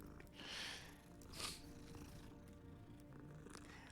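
A cat being petted in the video game Rookwood Castle purrs softly and steadily, with a couple of louder swells near the start over a faint, quiet background.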